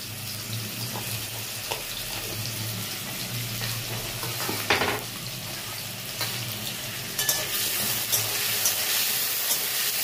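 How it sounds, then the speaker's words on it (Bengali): Potatoes frying in hot oil with salt for a fish-head cabbage curry: a steady, soft sizzle runs throughout, broken by a few faint clinks and stirring sounds, with no voices. "আলুটা একটু ভাজাভাজি হোক।"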